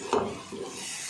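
Onions and curry leaves are sautéed in hot oil for a Chettinad crab dry fry, with a brief close scrape of stirring over a soft sizzle in a short, loud burst.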